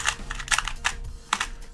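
MoYu Meilong 2x2 Rubik's cubes being turned quickly, a run of sharp plastic clicks and clacks in an uneven rhythm, close and loud with no talking.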